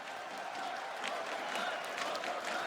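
Esports arena crowd at a CS:GO match between Astralis and NiP on Mirage, IEM Champions Stage quarterfinals, applauding and cheering steadily throughout, a dense continuous roar of clapping and voices.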